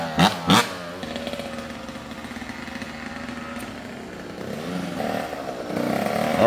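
Dirt bike engine droning and revving through wheelie attempts on grass and dirt, opening with two sharp bursts, then a sustained mid-distance drone that climbs louder at the end.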